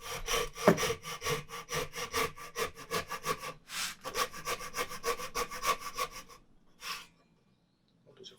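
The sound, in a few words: Japanese hand saw cutting wood, sound changing near finish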